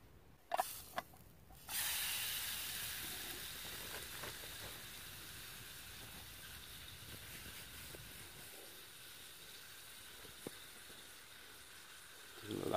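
Steak sizzles loudly in melted butter in an aluminium frying pan, a steady close hiss that starts after a few clicks and knocks and keeps up, fading a little, with an occasional sharp crackle.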